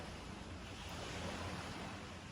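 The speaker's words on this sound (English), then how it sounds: "Hopefully you could hear the waves well." Waves wash onto a shore in a constant, soft, rushing roar, heard faintly and without a break.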